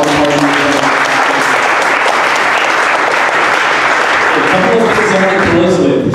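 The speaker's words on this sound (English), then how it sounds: "please give them a round of applause." A conference audience claps in a loud, dense round of applause that stays even throughout, close and enveloping, with a faint murmur of voices mixed in.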